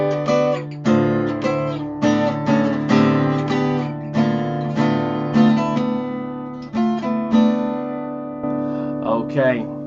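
Guitar in drop-D tuning plays the final section of a song as a run of ringing, sustained chords and riffs, close and clear, with brief pauses between phrases and no talking over it.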